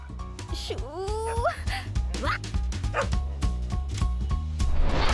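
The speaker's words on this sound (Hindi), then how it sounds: "तुम्हारी कार के अंदर कुत्ता किसका है?" A neighbour's dog barks and yips repeatedly, with whimpering yelps, while people talk over it and music plays underneath.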